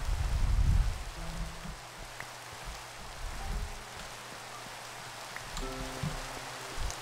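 Rain falling in the video game Minecraft: a faint, steady hiss of rainfall with soft low thumps and scattered tones at the start, continuing quietly throughout.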